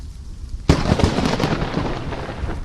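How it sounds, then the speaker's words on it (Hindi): A lightning bolt strikes the ground just behind a reporter broadcasting live on TV: a sudden, very loud crack bursts from quiet and then rolls on as a dense, sustained roar of thunder. "कड़कती हुई बिजली उसकी पीठ के पीछे जमीन से टकरा गई।"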